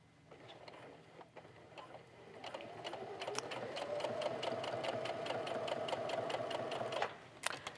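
A sewing machine topstitching fabric with stretch thread, starting slowly with distinct needle ticks and then running steadily, close and alone.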